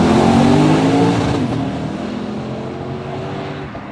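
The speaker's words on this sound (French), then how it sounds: "la sonorité de l'échappement a été retravaillée pour créer un bruit sourd jusqu'à 3000 tours minute" A Lexus RC F engine and reworked exhaust revs loudly and close, a deep throaty roar that holds strongly at first and then eases off gradually as the revs fall.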